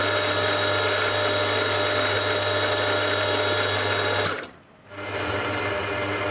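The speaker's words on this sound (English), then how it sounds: "And mill the gap for the selector fork." Loud, steady machine whine of a milling machine motor cutting metal under load, cutting out briefly near the end before starting up again.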